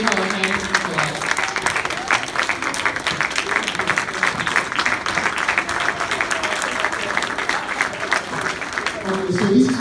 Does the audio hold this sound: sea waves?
no